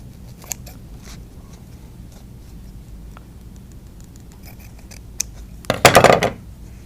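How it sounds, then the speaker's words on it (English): Scissors cut paper for a shiny star ornament at a winter craft session, the first seconds quiet with a few faint snips, then a loud, close burst of crisp cutting near the end. "I'm cutting just inside my trace lines"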